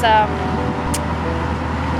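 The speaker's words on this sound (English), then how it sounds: "You can hear the engine." A narrowboat engine drones steadily at low pitch throughout, a constant rumbling hum with a brief higher whine near the start; the engine is making a funny noise.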